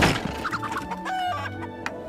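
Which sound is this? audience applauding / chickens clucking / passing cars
chickens clucking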